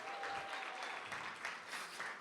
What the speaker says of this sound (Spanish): Vamos a darle un fuerte aplauso a Freddy